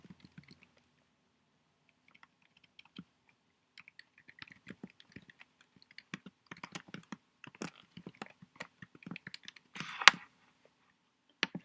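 Keys on a computer keyboard are tapped to enter a password, sparse quiet clicks at first building into denser bursts of close typing.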